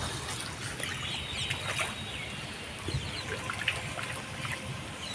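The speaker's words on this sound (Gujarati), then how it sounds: "દેખો દોસ્તો કેટલા દિવસ પછી વરસાદ પડે છે" Rainwater trickles and drips steadily on a rooftop after days without rain, a continuous soft wash of splashing droplets with scattered louder drips throughout.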